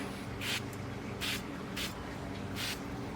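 Four short hissing sprays from an oil mister into an air fryer, evenly spaced about a second apart, close to the microphone over a faint background hum.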